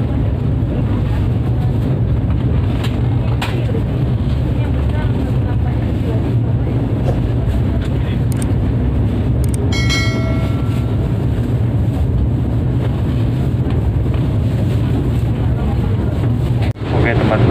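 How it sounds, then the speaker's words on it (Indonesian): The Wijaya Kusuma executive-class passenger train departs Surabaya Gubeng station for Banyuwangi, a steady loud rumble of the cars rolling with a brief high metallic squeal midway and wind buffeting, heard from on board. "kereta api Wijaya Kusuma diberangkatkan dari stasiun besar Surabaya Gubeng menuju Banyuwangi."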